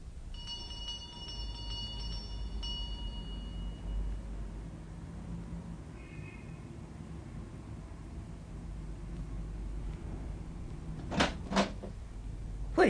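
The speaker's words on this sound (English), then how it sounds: "I rang the bell." A doorbell at night rings with a deep, tolling tone like a church bell, sustaining and fading over a few seconds. A quiet, hushed stretch follows, then a couple of sharp knocks or clatters close by near the end.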